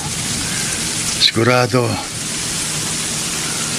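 Heavy rain pours steadily as a dense, loud hiss throughout, with a short spoken word briefly rising above the downpour.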